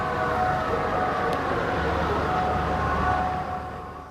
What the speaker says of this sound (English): Eyewitnesses heard sirens in the heavily fortified area of the city, home to the US Embassy in Iraq.